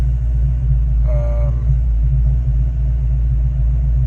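A Fox Body Ford Mustang engine idles with a steady low rumble close by, and a brief faint voice shows up near the start.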